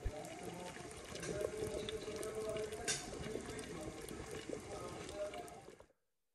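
Tap water runs into a cooking pot in a home kitchen, a steady splashing gush heard at close range with a short voice partway through, then cut off abruptly near the end.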